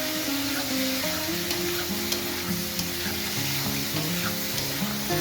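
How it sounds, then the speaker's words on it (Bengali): Turmeric stirred into a pan of frying okra and prawns gives a steady, close sizzle with soft scraping from the spatula, continuous and with no voices. "হলুদটা দেওয়ার পরে আমি আবার একটু নেড়ে চেড়ে নেবো"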